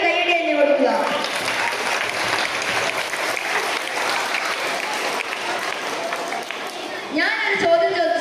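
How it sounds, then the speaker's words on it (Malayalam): Sustained applause from a group honouring two students at a Malayalam language day event, steady and dense for several seconds before tapering off near the end. "ഇരുവർക്കും വലിയൊരു കൈയടി തന്നെ കൊടുക്കുക"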